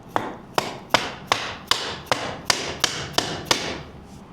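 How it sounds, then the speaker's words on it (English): Ten sharp, evenly spaced knocks of a small hammer striking, close and fairly loud, steady rhythm with brief ringing decay after each blow, while fitting a TPI/TBI end cap. "Little hammer whacking."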